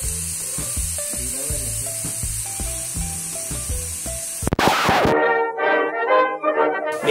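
Chicken laid bone-side down on a grill, bursting into a loud sizzling hiss partway through after a stretch of music, the sizzle continuing with crackle to the end.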